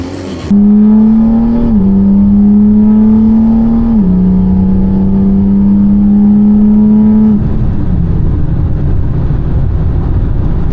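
A drag racing car at a Latvian drag racing event accelerates hard, its engine roaring loud and close as the pitch climbs steadily through two quick gear shifts, then drops away as the throttle is released.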